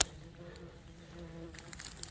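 Flies buzz around outdoors on an herb-gathering walk, a faint, wavering hum close by with a few light rustles near the end and no talk.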